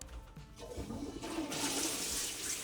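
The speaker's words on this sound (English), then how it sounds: "Something very important about the public toilets in Japan. There are different ways to flush." Public toilet in Japan flushing, starting with soft clicks and handling noises before a loud rushing gush of water swells in and continues steadily to the end, close by and without talking.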